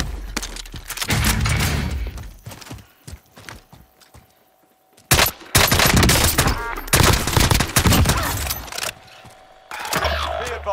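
Gunfire in Call of Duty: Modern Warfare, loud close bursts of rapid shots in two main clusters separated by a quieter gap, with scattered single cracks.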